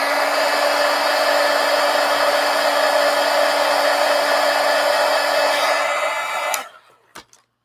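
Hair dryer blowing steadily on paint in a sketchbook, a loud continuous whirring roar that cuts off near the end, followed by a few faint clicks.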